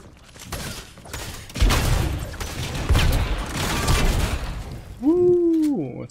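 Recycler gun fired in Fortnite, a burst of loud blasts and booms mixed with game effects, with a voice talking over the gunfire.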